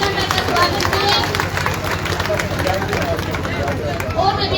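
A crowd at an election rally claps steadily and densely to welcome a politician, sustained applause with murmuring voices mixed in.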